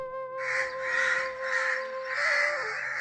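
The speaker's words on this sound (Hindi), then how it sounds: "तभी 2 कौवे कांव कांव करते हुए वहां आ गए।" Two crows caw repeatedly, loud and close, in a steady run of harsh calls with no other sound.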